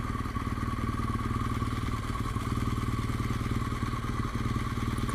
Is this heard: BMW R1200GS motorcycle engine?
yes